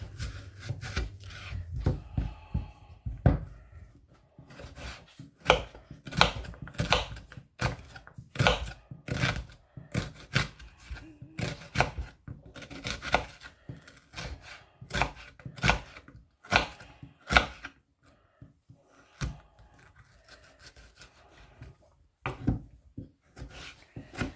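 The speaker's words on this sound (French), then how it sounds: "Là, nous allons couper notre oignon." A knife chops an onion on a cutting board for a chili recipe, with quick bursts of crisp, close taps in irregular runs, pausing briefly between runs, and a faint rubbing scrape between cuts.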